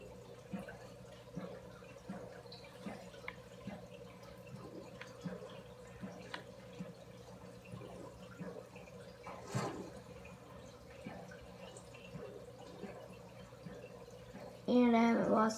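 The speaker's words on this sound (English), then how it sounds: "And I am just going to jump in the water." In the Minecraft video game, a player jumps into water, giving soft, scattered drips and watery ticks under a voice, then a brief louder splash near the end.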